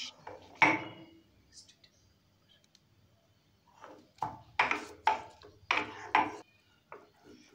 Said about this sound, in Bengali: এবার এটাকে শিলে ঢেলে নিয়ে বেটে নিচ্ছি।